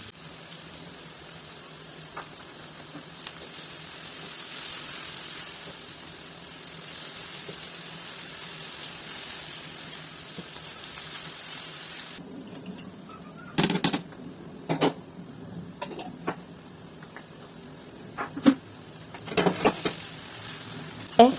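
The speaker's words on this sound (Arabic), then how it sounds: "هضيف كمان معلقة كبيرة من صلصة الطماطم وهنشوحها مع البصل والفلفل والثوم" Tomato paste sizzles in a pan with onion, pepper and garlic for a steady frying hiss, then louder clatters and scrapes from stirring break through in the second half.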